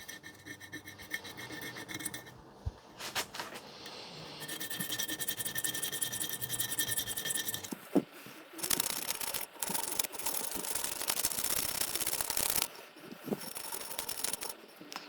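Hand sanding a chipped area on an old Australian Hoffman pottery vase with 240 and 180 grit sandpaper, giving steady close scratchy rasping strokes with brief pauses between passes.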